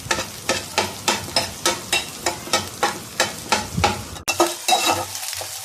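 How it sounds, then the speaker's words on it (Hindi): An omelette in a hot pan is chopped into small pieces with a spoon, about a dozen evenly spaced scraping taps over a steady sizzle, close and fairly loud, with a brief pause near the end. "ऑमलेट को चम्मच की मदद से इस तरह काट लेंगे, छोटे छोटे पीस कर लेंगे।"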